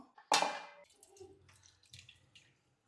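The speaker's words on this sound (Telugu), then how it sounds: "ఇంకా కొంచెం నీళ్ళు వేసుకుందాం" A brief splash of water poured into a pot of fish curry, followed by quiet trickling and a few scattered drips.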